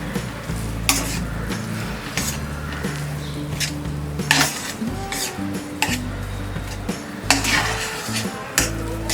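Spiced potato mixture with chopped coriander being stirred in a pan for bread pakora filling, with steady close scraping and clinks of a spoon against metal over a soft background sizzle.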